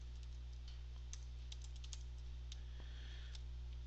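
Quiet run of computer keyboard keystrokes as a student login name is entered, irregular clicks scattered over a faint steady hum.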